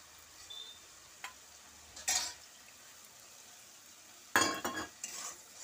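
Spice paste for butter chicken is stir-fried in a pan, with a few short scraping bursts of the spoon against the pan separated by near-silence, quiet and close.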